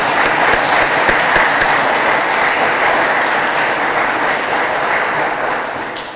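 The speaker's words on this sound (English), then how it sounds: "Let's give them a round of applause for putting this together." A crowd applauds the organizers of a police anniversary ceremony, a dense sustained clapping that stays loud throughout and tapers slightly at the end.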